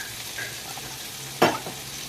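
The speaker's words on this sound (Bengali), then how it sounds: "দিয়ে এবার আদা বাটা আর পোস্ত বাটাটাকে খুব সুন্দর করে আবার কষে নেব" Steady, even sizzling of ginger paste and poppy seed paste frying in a pan for a vegetarian ridge gourd dish, with a brief louder scrape of stirring partway through.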